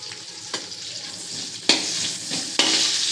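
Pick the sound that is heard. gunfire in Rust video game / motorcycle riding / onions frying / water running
onions frying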